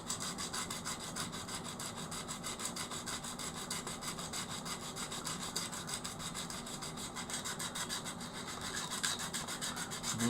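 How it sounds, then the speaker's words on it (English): Continuous rasping rub of sanding or filing across a marked wooden piece in a workshop shed, steady back-and-forth strokes at close range with no voices. "I'm going to try and rub those off."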